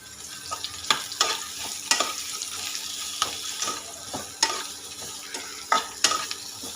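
Bitter gourd sautés in a pan with a spatula scraping and tossing it, sharp irregular stirring clacks over a constant sizzling hiss, close by and without any speech.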